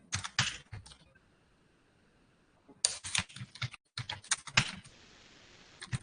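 Computer keyboard typing during an HTML lesson comes in two close bursts of quick clicking keystrokes, separated by a stretch of near silence.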